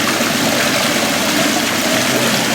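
Water runs steadily through a pond filter system after the power returns, a dense continuous rush and trickle close by with no voices.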